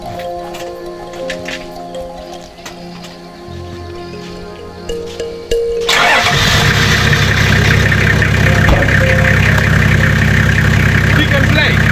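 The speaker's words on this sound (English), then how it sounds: "let us start our car and look at how is the performance of" A car engine starts on a road trip across Uganda's Karamoja region: a sudden loud burst at mid-clip gives way to a steady, close engine rumble, with quieter earlier sounds and some speech-like activity before it.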